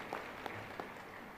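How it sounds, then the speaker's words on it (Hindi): Audience applause at a spiritual gathering honouring a performer, a steady wash of many hands clapping that fills the short moment at moderate level, with a few sharper claps standing out. "एक बार उनको भी तालियों द्वारा हम साधुवाद देते हैं"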